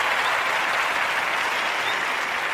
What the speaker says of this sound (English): Girl, give yourself a hand clap.